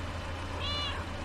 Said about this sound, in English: Here, little kitty, come on.